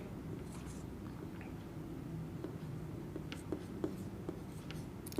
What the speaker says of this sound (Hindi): नेगेटिव सेंटेंस से फ्रेंड्स हम सेंटेंस लिखेंगे